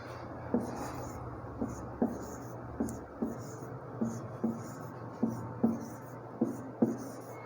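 Chalk or marker strokes write numbers on a board, a steady series of short, distinct taps and scratches about every half second, fairly close, with a faint background hum and no speech.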